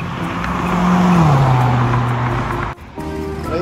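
A Corvette sports car's engine drones loudly nearby with a falling pitch as it shifts or passes, with some tire noise. It then drops briefly and resumes at a lower steady tone.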